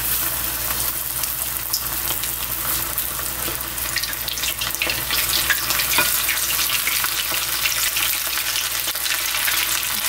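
Dried pollack (kodari) fries in shallow oil, half submerged, giving a steady crackling sizzle with scattered sharper pops that runs unbroken throughout, close and moderately loud, with no talking.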